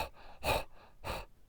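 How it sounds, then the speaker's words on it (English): Open, O-shaped mouth panting during a breath practice, two loud sharp breaths close up with quieter breaths between them, no talk. "the mouth is open in an O shape, but you're panting like a dog"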